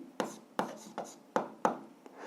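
A pen taps and scratches on paper in five or six quick, separate strokes, spaced about a third of a second apart. Someone is jotting down short answers to an algebra exercise, recorded close up in a quiet room with no talking.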